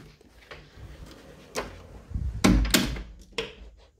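A house's front door swings shut, with a few soft knocks and rattles building to a heavier thud and latch clunk near the end, close by in a quiet room.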